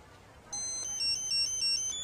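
A mobile phone ringtone starts abruptly and loops a bright electronic melody of repeated tones, loud and steady, with no talk over it, in a comedy scene.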